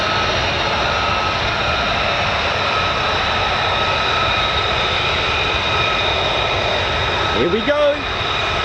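An F-35 fighter jet accelerates at an RAF airbase with the US Air Force 48th Fighter Wing, giving a loud, steady, broad roar throughout. Someone speaks briefly near the end over the engine noise.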